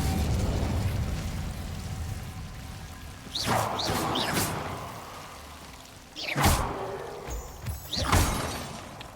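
A fire spell cast in Hogwarts Legacy, heard as several loud whooshing bursts with crackling flare-ups spaced over a few seconds against steady game ambience and low rumble.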